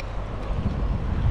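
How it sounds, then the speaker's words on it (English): Gusty wind buffets the microphone in a continuous low rumble for about a second, with no other sounds. "She's a bit windy today."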